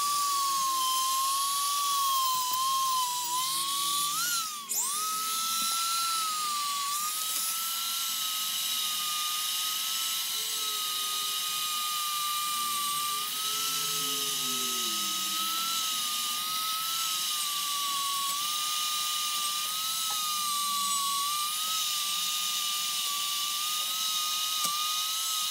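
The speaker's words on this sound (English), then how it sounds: "I'm using the Dremel tool to clean up the metal pieces on the ends of the slide rule body." A Dremel rotary tool cleaning the metal end pieces of a slide rule body gives off a steady high-pitched whine, wavering slightly in pitch with a brief dip near five seconds, continuous and close.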